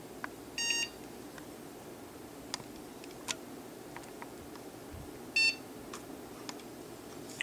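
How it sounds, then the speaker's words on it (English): Two short electronic beeps from a netbook computer sound several seconds apart, the second lower in pitch, over a steady low hum, with faint ticks in between. "It went beep, and then it went beep at a lower pitch."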